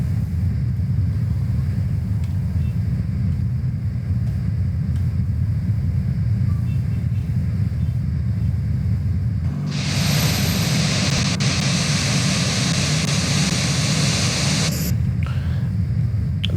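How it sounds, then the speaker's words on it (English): A simulated airliner engine spools up in Microsoft Flight Simulator 2024, a broad loud roar rising over steady low cockpit rumble for about five seconds before cutting back, with rain on the Caribbean approach. "Engine number 2 start."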